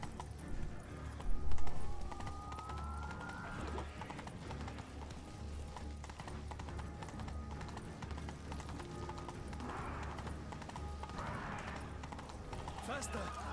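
Hooves of Roach, a horse in a video game, clip-clop at a steady galloping pace, with a brief whinny-like swell near the start and voices and game sounds underneath.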